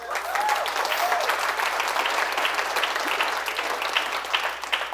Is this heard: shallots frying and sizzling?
no